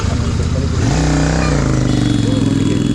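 A Royal Enfield Interceptor motorcycle, fitted with updates, revs its engine close by in a steady loud drone that climbs in pitch partway through.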